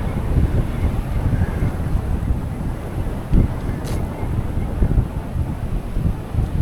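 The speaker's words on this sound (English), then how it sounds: "let me turn away from the wind" Strong wind blowing across a beach buffets the microphone, a loud continuous low rumble with gusty bursts, steady throughout with no voice heard.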